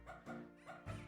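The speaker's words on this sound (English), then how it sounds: "Dog Bark." A dog barks and yips three or four times in quick succession, fairly faint, with a short whimpering quality.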